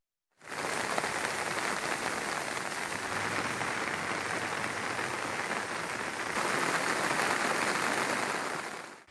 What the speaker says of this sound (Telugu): బంగాళాఖాతంలో అల్పపీడనంతో జంట నగరాల్లో విస్తారంగా వర్షాలు పడుతున్నాయి